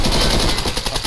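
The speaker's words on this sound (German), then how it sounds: "Warum knallst du mich ab?" Dense, loud, rapid automatic gunfire in the video game Escape from Tarkov, continuous bursts filling the whole moment at close range.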